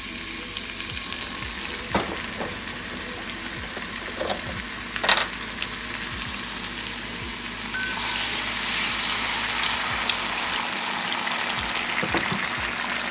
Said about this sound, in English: So I saute that up, and then I put my egg whites.